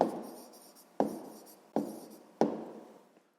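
Pen or pencil writing down a sixth-grade math answer on comparing rational numbers: four crisp strokes, each with a sharp scratchy start that fades away, spaced under a second apart, close and quiet, with no talking.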